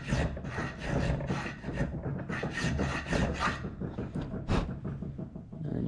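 A triangle file rasps across hot-forged metal stock for a twist, a close, continuous series of scraping strokes in an even back-and-forth rhythm.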